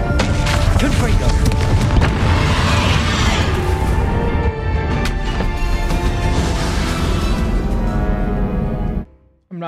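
A Confringo spell explosion in Hogwarts Legacy, a loud booming blast with a rolling, crackling roar that fills most of the stretch before cutting off abruptly near the end.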